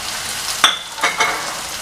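Onions, small onions and curry leaves sautéing in a pan for a mutton head curry, a steady close sizzle with a few sharp stirring scrapes, no talk.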